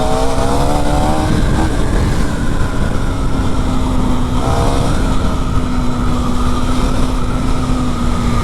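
A KTM Duke 390 motorcycle engine in very poor condition runs loud and close, with a constant gritty rasp and a steady tone that climbs briefly in pitch during revs.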